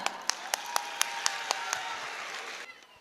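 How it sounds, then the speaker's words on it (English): An audience at a kids academy annual function claps for small playgroup children on stage, with a few sharp, evenly spaced claps standing out over a steadier crowd patter that gradually fades near the end. "Keep clapping for these playgroup kids from Koinanagar branch"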